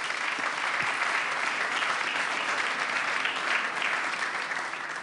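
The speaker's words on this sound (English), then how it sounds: "Let's give a huge round of applause to our panel." Sustained audience applause fills a hall at the Munich Security Conference, a dense, steady wash of many hands clapping at even loudness for several seconds before easing slightly at the end.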